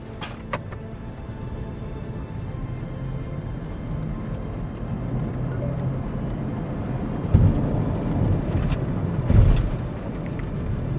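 Mahindra XUV 400 EV pulling away in Fearless mode after the brake is released, heard from inside as a faint rising electric whine over steady road rumble, with a couple of soft thumps.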